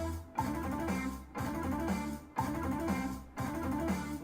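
Metal guitar played in fast 16th-note triplet bursts on a single string at 120 BPM, four dense chugging phrases separated by brief silent gaps, loud and close with no talking.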